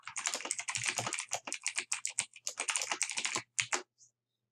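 Rapid keystrokes clatter on a computer keyboard in quick irregular bursts, close and crisp, pausing briefly before a final few taps and then silence.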